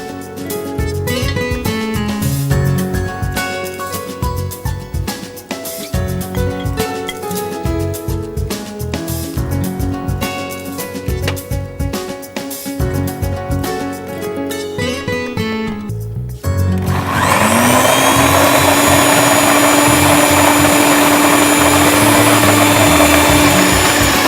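A mixer grinder loudly whirs as coconut, white sesame seeds and poppy seeds are ground into a spice paste, starting after music and then running as a steady, dense roar.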